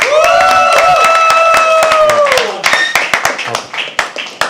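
An audience at a live poetry open mic claps in scattered, uneven bursts right after a voice sustains a long sung note.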